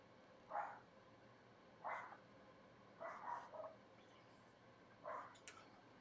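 A dog barks upstairs in a home, four short distant bursts spaced over a few seconds, muffled and faint against a quiet room.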